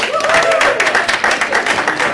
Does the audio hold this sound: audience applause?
yes